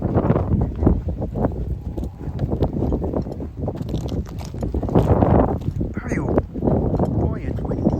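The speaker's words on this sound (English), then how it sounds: "Boy, it's windy." Gusty wind buffets the microphone in low, uneven rumbles, with a person talking and faint animal sounds mixed in.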